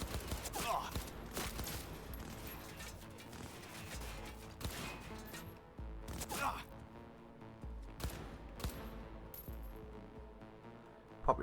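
Enemy gunfire in Cyberpunk 2077 sounds out as repeated bursts of shots from several directions over a busy game soundtrack, with sharp cracks at intervals and a hectic firefight feel throughout.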